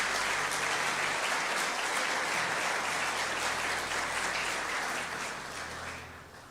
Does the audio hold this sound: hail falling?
no